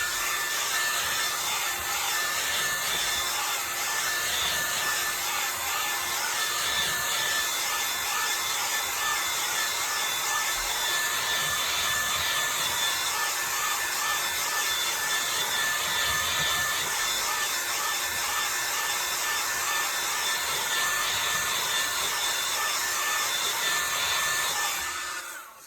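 A hair dryer blows steadily on a landscape painting, giving a loud, unbroken whooshing hum for about 25 seconds with no talk, before cutting off at the end.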